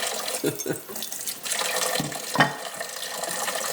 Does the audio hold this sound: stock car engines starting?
no